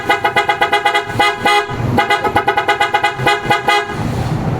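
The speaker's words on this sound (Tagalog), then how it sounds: "Combination ng Superior Bass Horn, then auto style." A deep, loud PIAA Superior Bass 112dB car horn on an Isuzu D-Max honks in a rapid series of short blasts, then holds longer tones, close and dominant with no talking.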